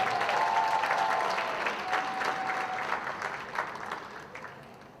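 Applause from a school pageant audience for Mr. VHS 2022 finalists and contestants, brisk clapping with a few whistles that tapers off over about five seconds.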